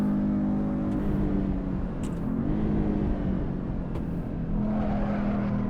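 Porsche 914 engine held at full throttle on a track, a steady, loud droning hum with a continuous low tone that stays constant throughout, with a few faint mechanical ticks above it.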